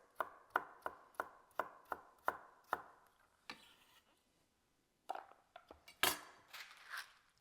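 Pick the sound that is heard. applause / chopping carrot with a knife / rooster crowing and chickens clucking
chopping carrot with a knife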